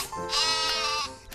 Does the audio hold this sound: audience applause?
no